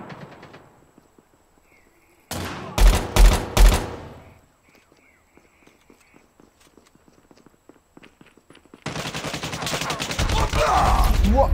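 A Call of Duty: Mobile match in Hardpoint mode. After a few faint clicks, three loud, close gun blasts crack in quick succession, a quiet stretch of small ticks follows, and then sustained heavy automatic fire roars to the end.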